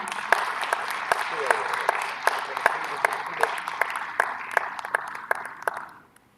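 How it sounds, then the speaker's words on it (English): Audience applause welcoming a junior satellite team at a space conference, many hands clapping steadily and fairly close, then fading out at the end. "Let's welcome them with a huge round of applause,"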